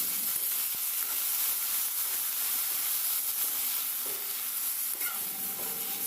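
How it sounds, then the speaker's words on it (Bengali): Chopped spinach frying with garlic in a pan gives a steady, close hiss and sizzle with faint stirring scrapes throughout, and no voices. "রসুনের গন্ধ বেরোলে এবার আমি পালং শাক কুচি দিয়ে দিলাম।"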